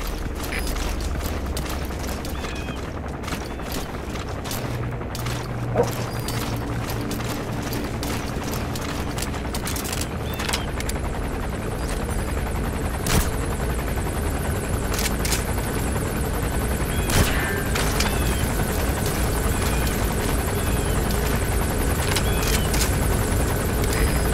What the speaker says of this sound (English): The chopper will be arriving any minute.